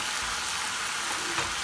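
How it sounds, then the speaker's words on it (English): Stir-fried beef sizzles steadily in a hot pan, a dense, even crackle of frying held at a constant level with no voices over it. "you want it hot enough so it's sizzling"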